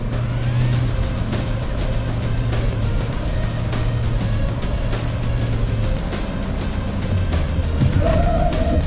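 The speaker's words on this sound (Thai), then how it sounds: "ทำความเร็วที่100กิโลเมตรต่อชั่วโมงนะครับหลังจากนั้นเนี่ยเราจะกระทืบเบรกลงไปเลยครับ" A Ford Ranger Wildtrak or Mitsubishi Triton pickup truck runs at speed, with a loud, steady engine drone and road roar from inside the cab and no clear pause, as the truck approaches a hard braking test with ABS.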